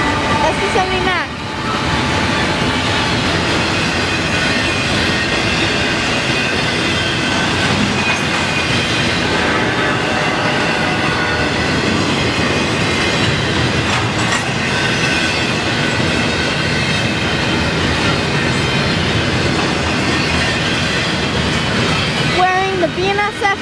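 Freight grain train led by an ex-BNSF SD70MAC locomotive rolling past in Wauseon, Ohio, a loud continuous rumble with clattering wheels and squealing rails, and a person talking over it.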